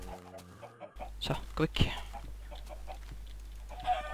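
Chickens in the video game Minecraft cluck inside an animal pen. A few short clucks come in among game sounds while someone speaks Danish.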